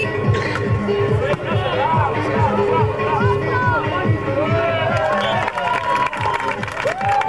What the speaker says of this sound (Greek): ένα χειροκρότημα για...